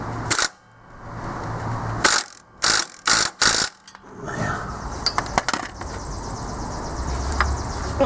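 A wrench ratchets in short bursts of sharp metallic clicks while tightening a part on an almost-free tractor, with quieter clinks and fumbling in between.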